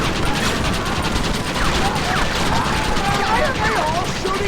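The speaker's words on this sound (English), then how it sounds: "Why are they all shooting at me?" Enemy gunfire in the Western game Red Dead Redemption, a dense continuous crackle of shots in a gunfight, with ricochet whines cutting through the steady racket.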